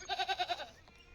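A newborn calf beside its mother cow gives one short, wavering bleat-like call with a few quick pulses, fairly quiet and alone.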